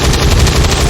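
A weapon fires in the turn-based tactics game XCOM 2, a loud, sharp blast with a dense rush of noise that fills the brief moment.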